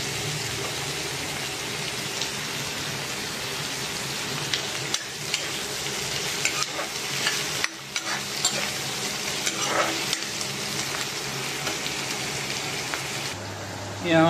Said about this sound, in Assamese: এতিয়া আপোনালোকে দেখা পাইছে অলমষ্ট ফ্ৰাই হ'বই